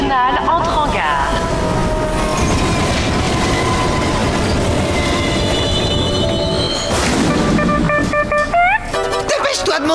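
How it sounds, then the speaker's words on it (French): Regional train pulling into a station in a SpongeBob cartoon: loud rumbling wheels with squealing brake tones, rising and falling whistle-like squeals near the end, and speech heard over it. "Un train régional entre en gare."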